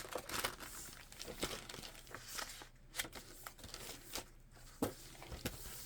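A large paper envelope with a window is handled up close at a crafting table, giving steady crinkling and rustling with sharper crackles throughout.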